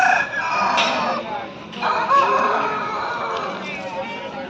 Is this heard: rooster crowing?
yes